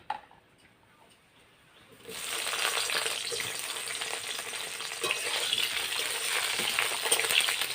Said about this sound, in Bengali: বেগুনটাও আমি হালকা লাল করে ভেজে নেব